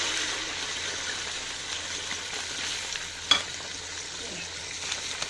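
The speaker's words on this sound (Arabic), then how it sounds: "وهنحمر بقى الشعريه." Vermicelli frying in ghee and oil in a pot, a steady close sizzle with faint stirring and one brief clink of a utensil, no talking.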